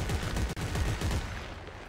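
Gunfire in co-op Dead Space 3 rattles in a rapid, continuous burst of loud shots with a brief gap midway, dense and close throughout.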